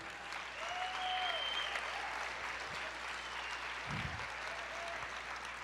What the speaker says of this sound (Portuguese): aplauda o Senhor, pode aplaudir.